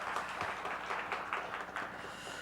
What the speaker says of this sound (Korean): 우리 찬양과 기도를 받으신 우리 주님께 한번 영광의 박수를 올려드리십시다